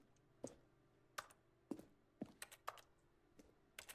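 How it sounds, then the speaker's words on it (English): Keyboard typing in The Stanley Parable: sparse, separate key clicks, fairly close and quiet, spaced irregularly with short pauses and a quick cluster near the middle, no voices. "Why does it sound like I'm typing?"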